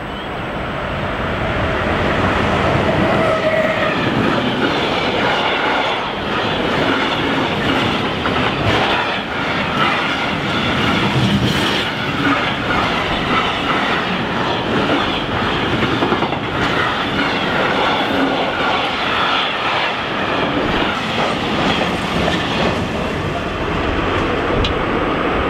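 An RTB Cargo freight train hauled by Siemens Vectron locomotive 193-791 passes close by on a Rhine valley line. A loud, sustained roar of wagons and rolling wheels carries steady clickety-clack throughout, with no voices.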